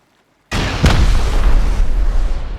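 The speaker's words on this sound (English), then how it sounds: "As soon as I shoot this rocket, this is going to break beneath me" A rocket blast in a base raid video game tears through base doors: one sudden loud boom hits after a short silence, then a long crackling rumble of debris rings on for a couple of seconds.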